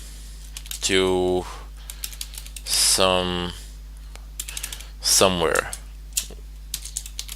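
Typing code into a programming editor on a computer keyboard, with quick light key clicks scattered between bursts of someone talking nearby.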